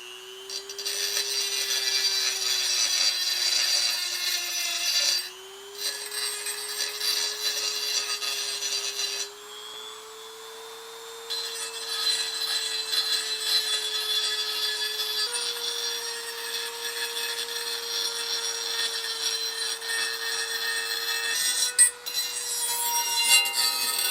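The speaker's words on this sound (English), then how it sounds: "I'm just going to use a Dremel." A Dremel rotary tool grinds a dirty vintage cast iron skillet, its steady high whine running almost continuously with a few brief pauses and a scratchy abrasive hiss throughout.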